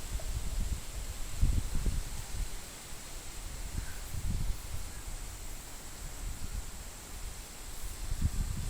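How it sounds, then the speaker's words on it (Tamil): Strong wind buffets outdoors in low, rumbling gusts that swell and fade every few seconds under a faint steady hiss; no one speaks. "பா பயங்கரமான காற்று"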